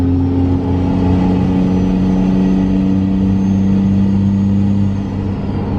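A Cummins diesel truck engine drives along at about quarter throttle, producing a loud, steady, droning hum with a strong low tone that holds evenly and close throughout, with only a slight easing near the end.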